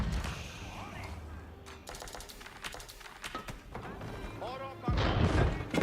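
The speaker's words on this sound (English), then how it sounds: "Bombard now engaging structures" A bombard cannon in the Age of Empires 4 video game pounds enemy structures amid a battle with men-at-arms and culverins. Rapid clattering weapon fire runs throughout, then a heavy, booming blast lands near the end.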